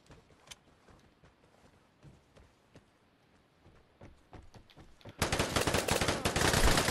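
Gunfire in the online shooter Vigor, scattered single shots and footsteps that give way to a loud, sustained burst of automatic fire close by.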